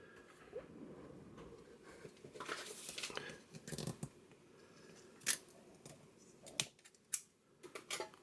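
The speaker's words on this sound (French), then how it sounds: "on va utiliser la manière forte des ciseaux." Scissors snipping open a Futera Unique FC Barcelona 2024/25 hobby box card pack, giving a run of sharp, close clicks and cuts that grow denser toward the end over quiet background.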